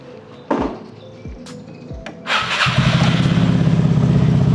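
A Vespa LXV 150 scooter's engine is started close by: a few clicks and thumps, a short starter whir, then the engine catches and settles into a steady, loud, rhythmic putter.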